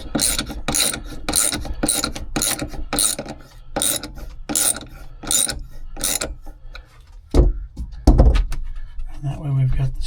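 A hand ratchet tightens the nut on an all-thread rod holding a full-size spare tire in the bed of a 2025 Honda Ridgeline, about ten even, close clicking strokes followed by a few dull thumps and rustles.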